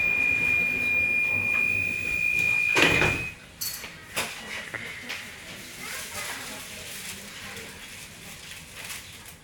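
Doors of a Bucharest M2 metro train sliding shut: a loud warning tone, then a heavy rumbling thud as the doors close, followed by cabin rattle and hiss, with a voice heard over the carriage noise.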